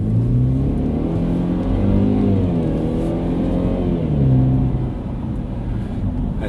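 A Ford Fusion with a Fusion EcoFlow axle-back performance exhaust revs up with a deep, throaty note while merging, climbing through the gears close by, loud and continuous.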